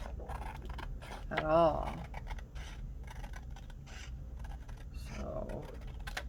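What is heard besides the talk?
cutting paper with scissors for a handmade journal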